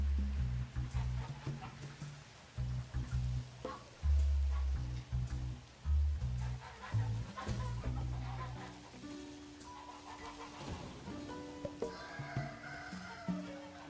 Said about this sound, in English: Why do I hear chickens?